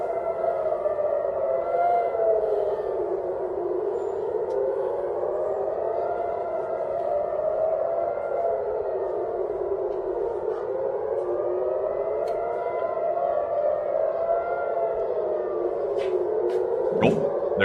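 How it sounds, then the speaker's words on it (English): Civil defense air raid sirens wail over Tel Aviv, a loud sustained rising and falling tone that cycles slowly and steadily, heard from a distance across the city with faint background noise. "We see here video footage as the sirens sound over Tel Aviv."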